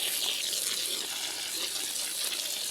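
Pond water gushing through a hose under pressure while filling concrete block cores, a steady, hissing broadband rush that holds constant throughout with no talking.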